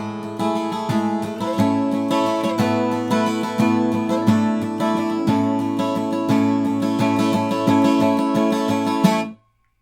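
Steel-string acoustic guitar plays the third part of a song, a steady strummed chord pattern with rhythmic accents, close and bright, ringing alone until it is abruptly cut off at the end.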